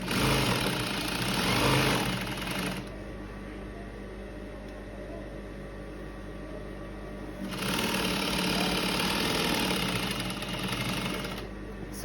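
A sewing machine stitching shirred fabric for an off-shoulder dress runs in two steady whirring bursts with a quieter pause between them, close by. A voice talks over parts of it.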